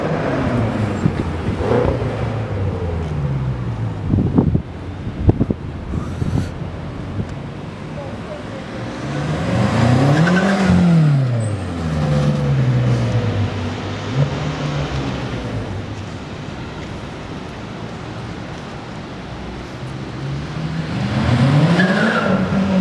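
BMW M6 Competition Package engine revving and accelerating, with rising and falling engine sweeps, a loud surge around the middle and another near the end, over wind noise and people talking.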